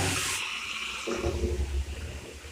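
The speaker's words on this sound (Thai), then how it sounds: "นี่นะครับเพื่อนๆก็จะได้ยินเสียงน้ำไหลเลยนะครับ" Water rushes and gurgles steadily down a bathroom sink drain, loud and close, with a low churning rumble as it drains away.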